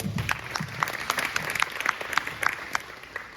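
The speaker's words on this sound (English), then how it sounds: "round of applause for each of them for being here today as well" An audience at a nutrition talk gives a round of applause, distinct claps in a fairly regular pattern at moderate volume, with a voice briefly heard at the start.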